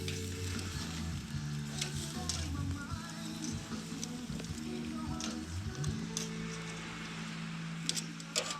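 Chicken and pork belly frying slowly in a pan at a beach, a steady close sizzle with stirring clinks and scrapes throughout.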